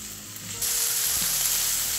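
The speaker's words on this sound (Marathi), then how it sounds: "इथे आपल्याला या गवाराच्या शेंगांना हाय फ्लेमवरती 5 मिनिटं छान असं परतवून घ्यायचं आहे" Cluster beans (gavar) stir-frying on high flame in a pan, a steady loud sizzle that jumps up partway through and holds, close and continuous with no talking.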